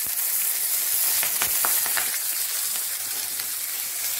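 Onion hitting hot oil with spluttering mustard seeds sets off a steady, close sizzle, dotted with sharp crackling pops through the first two seconds before settling into an even hiss.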